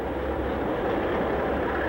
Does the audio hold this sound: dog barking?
no